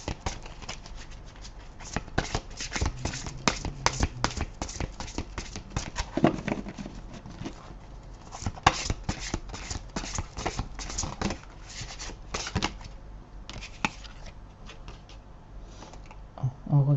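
Oracle cards shuffled by hand during a French card reading, giving a long run of quick, dry papery flicks and riffles at close range, with no speech over them.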